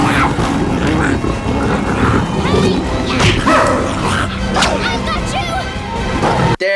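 A dog barks and yips in an animated movie, loud and close amid a dense, busy soundtrack with whooshes and whip-like cracks.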